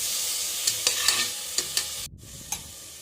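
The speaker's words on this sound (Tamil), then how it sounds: "வெங்காயத்து கூடயே இஞ்சி பூண்டு பேஸ்ட்டு சேர்த்து வணக்கிக்கோங்க." Onion, ginger-garlic paste and tomato sizzle steadily in a pan for a vegetable kurma, with a spoon scraping and stirring in repeated sharp strokes over the continuous frying hiss.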